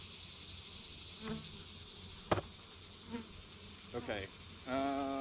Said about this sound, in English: Guard bees, guard bees.